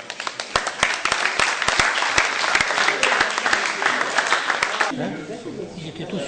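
A crowd applauds at a university sports awards presentation in Nice, dense loud clapping with sharp individual claps that fades out toward the end.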